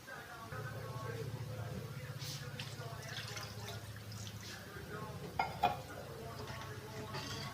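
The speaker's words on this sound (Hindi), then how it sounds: "तो मैं भी इसमें और पानी डालूंगी क्योंकि ये पकेगा" Water pours into gravy in a home cooking pot, a soft, low liquid trickle with a few faint clinks, recorded close and quiet while someone talks over it.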